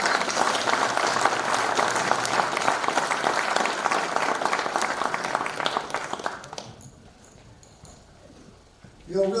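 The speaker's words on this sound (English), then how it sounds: "Let's please give everybody a round of applause" Audience applause at a hall of fame induction ceremony, a dense sustained clapping from a crowd that fades out after about six seconds, leaving near quiet before a voice returns.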